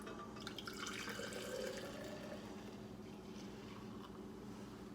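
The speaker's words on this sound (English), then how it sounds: "I'm going to put the hot ale in here and hopefully not spill it" Hot ale poured from a pot into a glass, a steady close-up liquid splash and gurgle running throughout with no talking.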